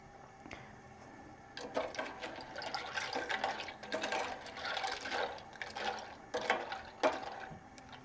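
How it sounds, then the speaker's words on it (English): Spoon scraping and swishing milk in a pot, irregular stirring strokes close by, with soft sloshing between them. "we're going to stir so we don't get anything burned until it's bubbling"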